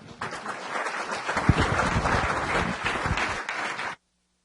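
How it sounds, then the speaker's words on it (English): An audience at a city council meeting gives sustained applause, a dense, loud wash of clapping lasting about four seconds before cutting off abruptly. "Let's give them a big round of applause."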